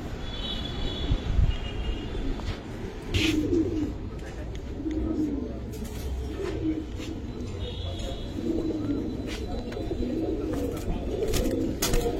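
Giribaz pigeons cooing at a pigeon market, soft low throaty coos repeating steadily through a busy background with scattered chirps and knocks, while people talk nearby.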